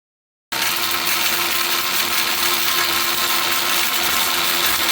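A kitchen mixer grinder starts abruptly and runs as a loud, steady whirring drone, grinding coffee, with no talking.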